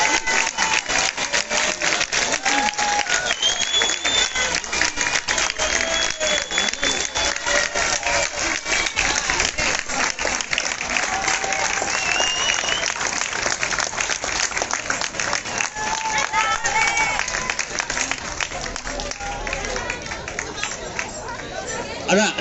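Crowd applause at a relay race award ceremony along the Adige River, continuous clapping mixed with loud chatter and cheering voices, busy and close throughout, with people talking over it.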